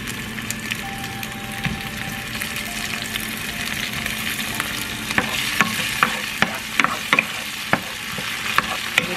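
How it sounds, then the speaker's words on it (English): Cherry tomatoes stirred into a hot pan of caramelized shallots for shrimp scampi, a steady sizzle under repeated sharp clacks and scrapes of a utensil against the pan, growing busier toward the end. "Add in the cherry tomatoes."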